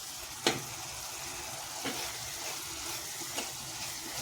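Shidol, a fermented fish dish, bubbling in a covered pot over the fire, a soft continuous hiss and simmer with a few faint clicks, quiet and steady with no talking.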